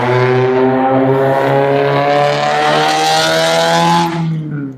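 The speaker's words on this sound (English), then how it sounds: "that damn car, I'm so mad at that car right now" A car engine revs outside, a loud continuous drone of about four seconds whose pitch climbs slightly before it tapers away.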